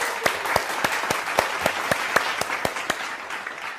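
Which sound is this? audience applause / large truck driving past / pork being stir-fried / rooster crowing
audience applause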